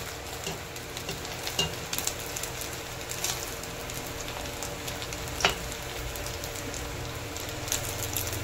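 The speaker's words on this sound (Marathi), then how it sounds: "मस्त असं क्रिस्पी आपण तळून घ्यायचे." Sabudana vada, tapioca pearl cutlets, fry in hot oil with a soft, steady sizzle and scattered small pops and crackles, fairly faint and heard alone.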